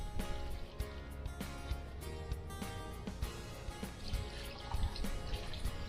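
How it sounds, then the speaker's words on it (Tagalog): Water pours steadily into a pot of pork lechon being cooked as sinampalukang lechon, a continuous close splashing trickle with small drips, with no voices. "maglagay na po tayo ng tubig"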